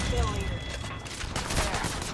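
Rapid automatic gunfire in the battle royale shooter Apex Legends, steady bursts of shots layered with game effects and faint chatter, fairly loud throughout.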